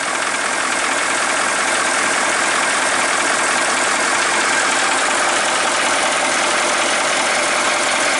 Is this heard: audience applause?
no